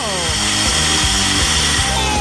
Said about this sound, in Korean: 나에게 전기 송풍기가 있어